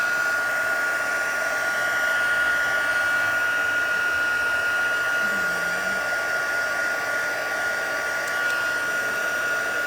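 A heat tool blows a steady, even whirring hiss for the whole stretch while it warms embossing powder on stamped paper, heated from the back; no talking.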